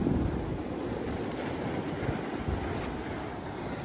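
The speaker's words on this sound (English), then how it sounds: "Look at that water just pour in right here." Sea water surges and pours into a tide pool at Duxbury Reef, a loud, continuous rushing wash with wind buffeting the microphone.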